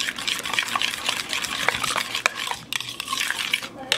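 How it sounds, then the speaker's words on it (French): A spoon stirring mustard into chicken seasoning in a bowl, with quick repeated scraping and clinking strokes, close and continuous. "On va bien mélanger."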